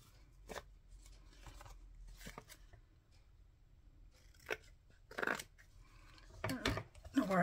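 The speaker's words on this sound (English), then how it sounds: "I'll just cut off this lace." Scissors snip through lace trim for a junk journal page, giving a few short, quiet crunching cuts spaced apart, a denser cluster near the end, with faint room noise between.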